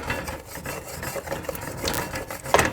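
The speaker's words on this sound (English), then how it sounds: "scrape up all those bits that are at the bottom of the pot" Utensil scraping the bottom of a soup pot while deglazing with wine during asparagus soup preparation, a steady rasping rub with a few sharper scrapes, close and alone.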